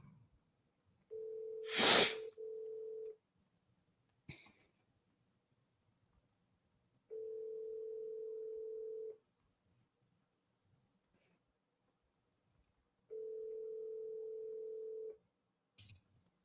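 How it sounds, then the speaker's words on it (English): A steady telephone dial tone sounds in three separate bursts of about two seconds each while a call is being placed, with a sniff and faint handling noises in the quiet gaps between them. "Pick up the phone, make some calls."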